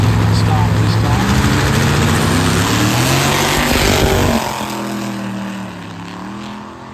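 A drag racing car roars through its run, a loud engine howl rising in pitch and then easing off as it pulls away, with an announcer talking over it.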